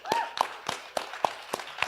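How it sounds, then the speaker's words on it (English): Hands clapping in an audience at a fireside chat event, a handful of sharp, evenly spaced claps close by, thin rather than a full crowd roar. "Let's give a round of applause for that."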